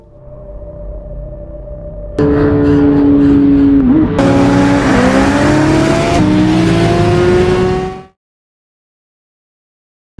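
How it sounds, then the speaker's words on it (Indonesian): A motorbike engine revs hard in a film scene, its pitch rising and dropping through several loud gear-like surges before cutting off into silence. "Tony harus secepat-cepatnya menggeber motor agar tidak sampai telat mengabdi kepada Miguel."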